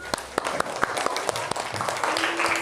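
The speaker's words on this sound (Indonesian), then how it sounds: "tepuk tangan untuk temannya yuk." Children in a classroom clap for a classmate, a scattered and uneven burst of hand claps close by with irregular spacing, over a background of room noise.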